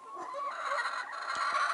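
Dekalb White laying hens cluck and murmur close by in a continuous busy chorus of overlapping clucks, with a few soft knocks underneath.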